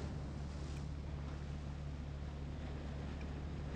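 Boat cruising across water in the mobile game Rope Hero: Vice Town, a steady low engine drone with wind-like rushing and splashing wash, continuous and even throughout, no voices.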